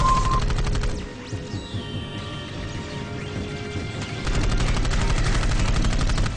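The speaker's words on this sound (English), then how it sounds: "I hear gunfire" Rapid bursts of automatic gunfire in the video game Dark Void crackle continuously, dipping briefly in the middle before loud sustained firing returns, with game-like electronic tones underneath.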